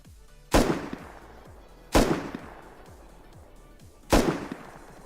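Three loud standard-ammo gunshots from a rifle in the survival video game Rust, each a sharp blast with a trailing echo, spaced about one and a half to two seconds apart, with no talking.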